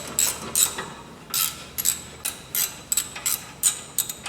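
A ratchet snugs 17mm bracket bolts on a Honda Civic during a front wheel bearing replacement. It gives short bursts of quick clicking, repeated about ten times at close range with no talking.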